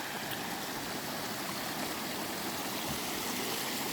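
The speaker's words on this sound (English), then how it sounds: "the little body of water I heard running just next to our little lunch site" A small stream running next to a picnic spot in Lassen Volcanic National Park, California, gives a steady, close, broadband rush of flowing water with faint gurgles and no voices.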